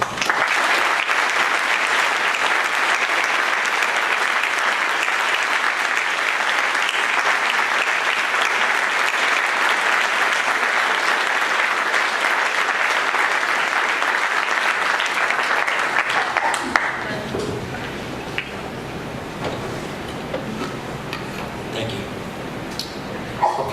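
A lecture audience at a faculty panel on Syria gives a long, steady round of applause in remembrance, dense and unbroken for about sixteen seconds before cutting off abruptly, followed by a speaker talking over a quiet room.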